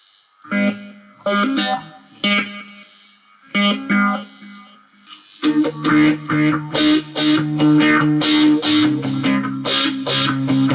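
Distorted electric guitar through a Yamaha DG Stomp plays a few separate chords, then a busier riff whose notes blur into repeating echoes from a delay effect.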